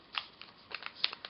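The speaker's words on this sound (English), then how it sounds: "we're going to snip the ends here and make a little flag" Scissors make a few quick, faint snips while trimming the ends of paper to shape a small flag, crisp little cuts spaced irregularly and heard close.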